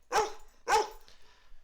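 A pet dog barks twice, close and sharp, with a short gap between the barks, then quiet.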